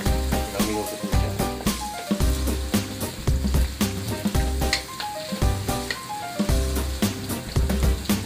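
Chicken curry with ginger sizzles in a pan, frying steadily while being stirred with repeated scraping strokes close by, with no talk heard.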